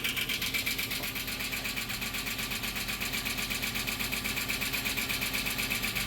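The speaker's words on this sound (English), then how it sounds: "That sounds like valve train noise, right? Yeah, that's lifter." A 1993 Plymouth Grand Voyager SE engine idles steadily after sitting for 18 years, with a rapid, even lifter tick from the valve train riding over the hum. It sounds close and constant, with no talking.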